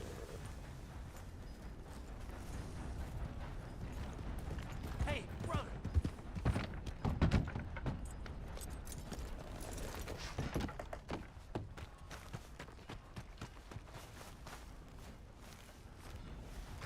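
Horse hooves clip-clop steadily in Red Dead Redemption II, a soft repeated plodding under ongoing game chatter and ambient noise, never loud.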